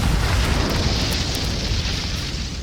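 A Confringo blasting spell explodes in the video game Hogwarts Legacy, a loud, dense, sustained roaring blast that slowly tails off, with no speech over it.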